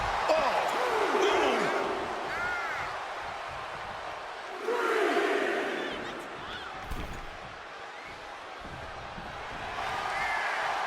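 In the WWE 2K25 video game, an arena crowd cheers and roars in broad waves that swell and fade, with someone commentator's voice over it.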